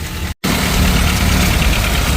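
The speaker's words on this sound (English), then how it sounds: "That's a cool little tractor." A small vintage tractor engine idles at a plow day with a steady, rough mechanical chug, close and loud, briefly cut by a gap of silence near the start.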